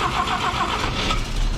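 An abandoned 1958 Chevrolet Apache truck engine cranks with a loud, continuous, rough churning, close by and without a pause.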